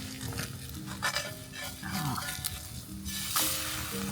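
A pancake sizzles in a pan over a campfire, with soft scraping and stirring noises and faint background voices nearby.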